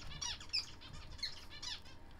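Two pet finches squawk in sharp, repeated bursts a few times in quick succession, close and fairly clear, with light fluttery movement between calls.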